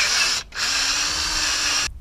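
A power drill bores holes with a 9/64 drill bit while fitting a transducer shield on a bass boat, a steady high whine running almost two seconds with a brief break partway through, close and loud.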